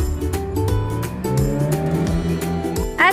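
Car engine revving and accelerating up close, with rising and falling pitch sweeps and a brief tire-squeal-like burst near the end, loud and steady throughout.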